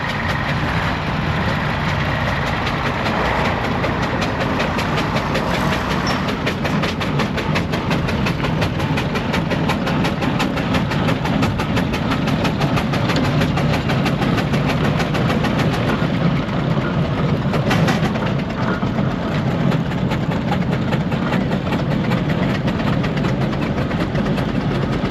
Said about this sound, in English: We can then see the same AC Matador overtaking a traction engine.